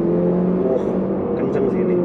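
Close-up engine hum of a 2023 Mercedes-Benz C200 sedan under acceleration, a steady loud rising drone heard from inside the cabin, with a voice partly mixed in.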